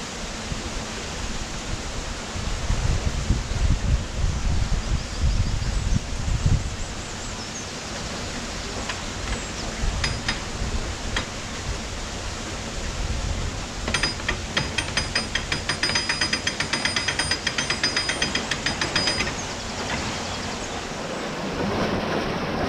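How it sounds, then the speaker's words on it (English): Steady roar of water rushing through the paddles of a canal lock, a broad continuous wash with faint metallic clicks and rattles layered on top. "the water that's coming out of here is going into that lock rather than down the bywash"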